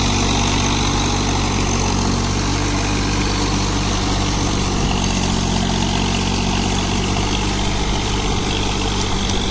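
John Deere 3028 EN 28 HP mini tractor diesel engine running at a steady idle, a loud, close, even low rumble throughout with no talk.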